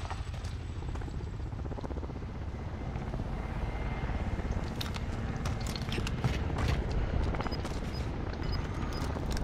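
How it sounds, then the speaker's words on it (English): Supply helicopters circle overhead in Call of Duty Warzone, a steady rotor drone over dense low rumble, with scattered sharp cracks and clatter of distant gunfire throughout. "Supply choppers above. Take them out and secure the cargo."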